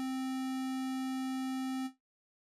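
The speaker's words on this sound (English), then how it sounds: "we have the square wave, and this follows a basic square pattern and sounds a lot more harmonic" A synthesizer square wave holds as a steady, bright buzzy tone for about two seconds, then cuts off into silence.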